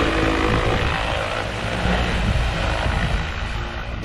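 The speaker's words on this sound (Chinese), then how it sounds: "无人机在玉米地上方穿梭作业" An agricultural drone spraying pesticide over a corn field in Dandong gives a loud, steady whirring propeller drone that fills the scene continuously and fades slightly at the end.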